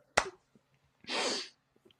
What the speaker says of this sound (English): I shouldn't clap into the microphone